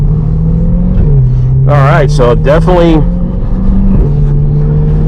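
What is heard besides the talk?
Corvette C8 accelerating hard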